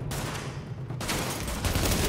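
Gunfire from the video game The Division, a dense rattle of rapid shots and bursts that is strongest in the second half, with no talk over it.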